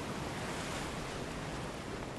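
Sea waves from the video game Lies of P, a steady even wash of surf and wind at moderate level with no voices.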